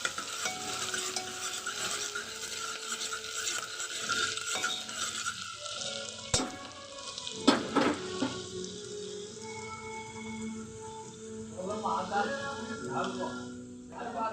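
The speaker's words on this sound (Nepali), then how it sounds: "प्याजलाई पनि मजाले ब्राउन हुन दिने होइन" Onions browning in a pan for dal, a steady sizzle with stirring scrapes and a few sharp clinks, with someone speaking over the frying throughout.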